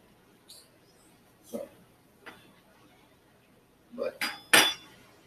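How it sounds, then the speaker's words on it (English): A metal naan-flipping utensil clinks and scrapes in a few scattered contacts, with a cluster of bright, close metallic clinks near the end. "Got me a Naan flipping utensil"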